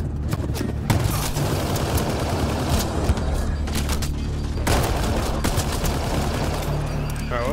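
Sustained gunfire in the sci-fi video game Mass Effect Andromeda: dense, continuous bursts of shots and impacts pounding through the whole stretch, loud and close, with scattered heavier thuds.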